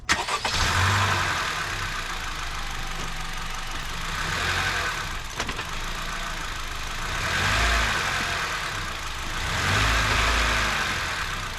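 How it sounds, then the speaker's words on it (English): A 2022 Honda Civic 2.0 engine with an aftermarket high-volume intake cranks and catches, then settles into a steady idle that swells gently in loudness several times. "I'm going to start the car, try to keep the e-brake on, and slowly release the clutch so you can just watch the engine rock back and forth"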